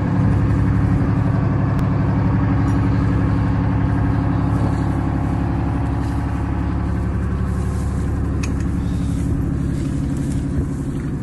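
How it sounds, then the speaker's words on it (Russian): The engine of a Dutch YPR 765 armoured vehicle runs at a steady, rumbling idle for the whole stretch, loud and continuous with no talking. "запущенная машина работает."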